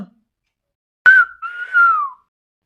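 After a short silence, a person gives a sharp whistle followed by a longer, sliding whistle that falls in pitch, loud and close.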